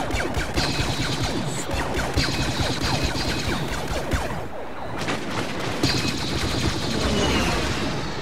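Dense, continuous blaster gunfire and explosions from a Star Wars Battlefront multiplayer battle on Jakku, rapid overlapping shots throughout with heavy booms, loud and without pauses.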